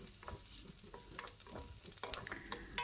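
Chopped onions sautéing in a pan for a Kerala raw-banana thoran, with a soft, steady frying hiss and scattered scrapes of a stirring spoon, fairly quiet throughout.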